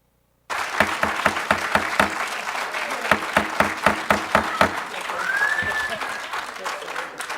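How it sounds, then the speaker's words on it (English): Members of the public clap at an Anchorage Assembly meeting, starting abruptly as a burst of applause with sharp rhythmic claps that thicken into a steady wash, loud and close, and no talk. "Would members of the public please refrain from clapping?"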